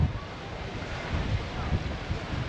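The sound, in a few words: wind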